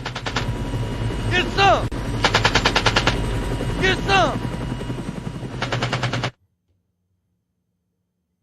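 Rapid bursts of helicopter-mounted machine gun fire clatter loudly in several long volleys, with descending whistling tones between bursts, under a constant low rotor rumble and someone shouting excitedly over it, ending abruptly in silence.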